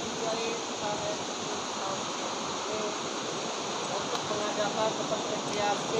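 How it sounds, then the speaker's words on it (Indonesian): Rushing water of the Batu Notok waterfall roars steadily and broadband throughout, a constant dense wash with no pauses and no clear talk on top. "di depan sana air terjun batu notok"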